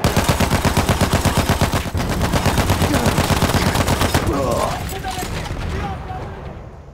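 Rapid bursts of automatic gunfire and heavier weapon fire from the Battlefield 1 battlefield in the Sinai Desert, loud and dense at first and thinning out over several seconds with a faint voice beneath.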